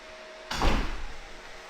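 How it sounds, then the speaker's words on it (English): A side door on a Lian Li PC-60 Plus aluminium PC case closes with a single solid thud and a short rattle that fades quickly, heard close up against a faint steady fan hum. "Let's close the door."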